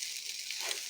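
Pork maple sausage sizzling and frying in a pan, a steady bright hiss with crackle, close and constant throughout the short moment.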